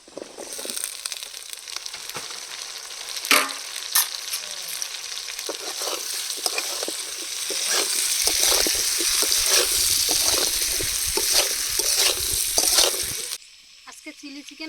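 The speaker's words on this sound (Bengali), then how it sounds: "ক্যাপসিকাম আর পেঁয়াজ দিয়ে একসাথে ভেজে নেবো" Capsicum and onion petals frying together in a pan for chili chicken, a bright hissing sizzle that swells louder midway with stirring scrapes and crackles, then cuts off abruptly near the end.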